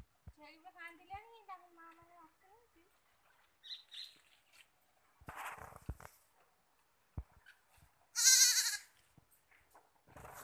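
Hungry young goats bleat in a quavering, wavering cry near a backyard garden, a few calls rising and falling between quieter stretches, along with scattered rustles and bird-like chirps.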